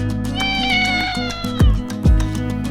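A cat meows, one long drawn-out call followed by two shorter meows, close and clear with no other sounds.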